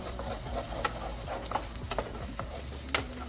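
Garlic sautéing in a pan for homemade Schezwan chutney gives a steady low sizzle, with soft stirring scrapes and a few sharp clicks from the utensil, close and continuous with no voices.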